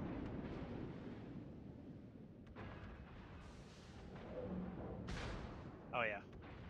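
Battleship artillery fire hitting the player in an online naval video game, heard as a low rumbling, wind-like roar with muffled impacts, followed near the end by a brief whistling tone.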